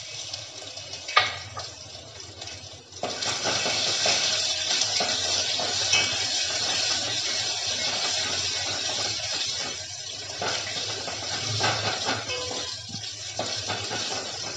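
Ginger garlic paste sizzles in hot oil with green chillies for a lobia curry tadka, a continuous loud hiss with a sharp pop near the start, then steady frying and faint stirring.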